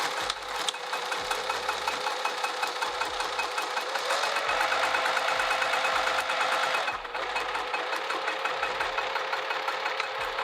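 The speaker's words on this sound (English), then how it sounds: "we're just going to top stitch from the zipper tab to the zipper tab" A sewing machine top-stitches vinyl along a zipper edge, running in a fast, steady mechanical chatter for several seconds with a brief pause near the end, close and clear with no voices.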